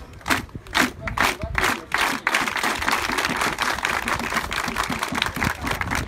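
Crowd of pilgrims clapping at a thank-you gathering: dense bursts of applause near the start, then a steadier wash of clapping and crowd murmur.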